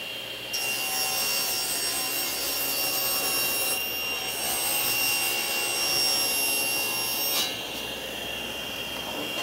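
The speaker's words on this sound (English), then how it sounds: "We're going to rip this material off, so I need to allow about an 1/8 inch for the saw blade." A table saw rips through wood panel material with a loud, continuous whining roar, pitch shifting slightly as the blade cuts and easing near the end.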